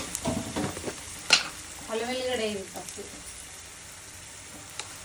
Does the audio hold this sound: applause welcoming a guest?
no